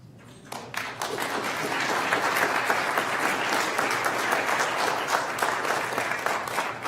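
An audience applauds honorees at a college governing board meeting, a dense, steady roar of clapping that starts abruptly after a brief quiet moment and holds loud and even to the end.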